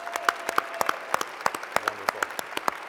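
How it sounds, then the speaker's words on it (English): An audience at an annual conference general session gives the Annie Jameson Pop Orchestra a round of applause, steady overlapping claps filling the hall at close range with no voices over them. "Can we just give them one more round of applause?"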